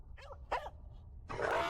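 A dog in a riverside village setting gives a few short, rough bark-like calls with gaps between them, followed by a louder burst of noisy sound; fairly close, with no talking.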